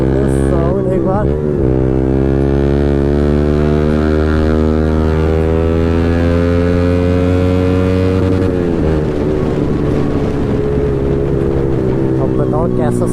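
A Yamaha MT15 motorcycle engine drones steadily and loudly while riding, its pitch holding even and then dropping as the bike eases off, with a brief rev near the start and constant wind noise.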